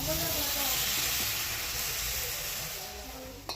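A steady, loud sizzle with hissing steam as water is added to a sizzling pot of sour curry, gradually easing off, ending with a brief clatter.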